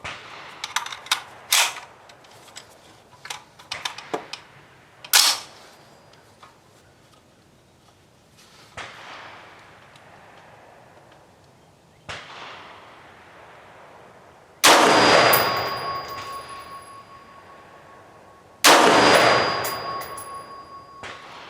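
Brownell's Retro AR-15 prototype rifle fires two loud, sharp shots spaced a few seconds apart, each with a long outdoor decay. Earlier come lighter clicks and handling knocks.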